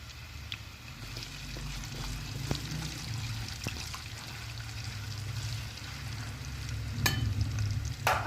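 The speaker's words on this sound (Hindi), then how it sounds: "अब इस घी में डाल देंगे और इनको फ्राई कर लेंगे अच्छी तरह से" Drained, dried potatoes frying in hot ghee for chicken kofta biryani, a continuous bubbling sizzle with scattered spatula scrapes and clinks that grows slightly louder toward the end, no talking.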